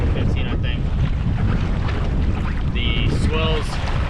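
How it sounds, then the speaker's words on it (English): Steady, loud wind of 10 to 15 knots buffeting a boat in Mission Bay, a continuous rushing roar with brief high squeaks and creaks, no clear talk. "the winds are probably sitting around 10 to 15 knots right now"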